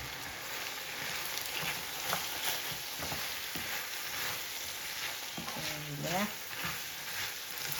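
Chicken pilaf ingredients sautéing in a salted pan, a steady close sizzle and crackle with occasional spoon scrapes and stirring knocks, no talking.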